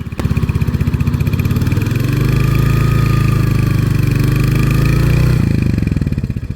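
A motorbike engine stuck in desert sand near Jaisalmer revs hard and close, a loud, sustained throbbing pulse that holds steady for several seconds before easing back.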